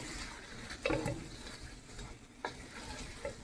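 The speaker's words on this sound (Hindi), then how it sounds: "चमचा जो है वो आपने हिलाते रहना है ताकि ये रोटेट होती रहे" A spoon scrapes and stirs spiced corn in a pan over medium heat, with a few distinct metallic knocks over a soft continuous sizzle.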